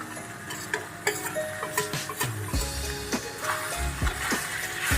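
Fried chicken being stirred into gravy in a pan, with scraping and clinking of a spoon against the pan over a soft sizzle, in irregular close strokes.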